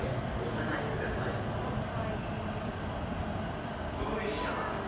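An E257 series 5500 Holiday Rapid train bound for Kamakura rumbles steadily along the platform with brief high whines from its motors, while a public-address voice announces in the background.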